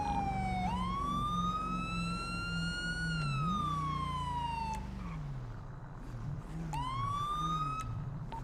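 Sirens from a police car in a roleplay video game, two loud, slow wails that rise and fall with a gap between them. They play over the rumble of the engine as the car drives at speed.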